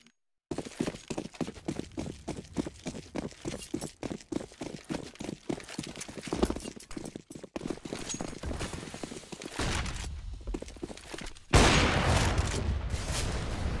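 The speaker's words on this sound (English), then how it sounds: "He takes a good amount of damage here from Engine on that USP, trying to connect the shots" Rapid gunfire from a Counter-Strike: Global Offensive competitive match, including USP pistol shots, cracks out in quick repeated bursts, with denser, louder firing near the end.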